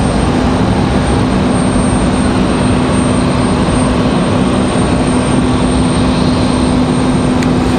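American Airlines flight 1891 from Miami, a jet airliner at Raleigh Durham International Airport, gives a loud, steady engine roar with a constant tonal hum, close and continuous throughout.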